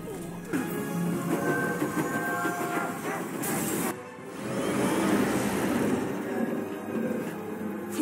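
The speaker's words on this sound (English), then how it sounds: "There's gonna be a train this time." A train rumbling past in the Lego Batman 2: DC Super Heroes video game, a loud steady rolling clatter with a short break near the middle before the roar swells again, game music and effects layered over it.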